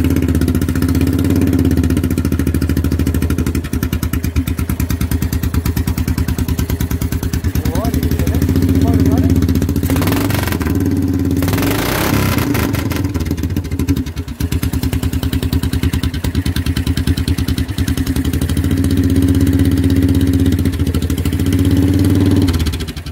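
Engine of a home-built budget vehicle starting and then idling, a loud continuous rumble with clattery mechanical pulses and brief revs, close up, with someone talking over it at times.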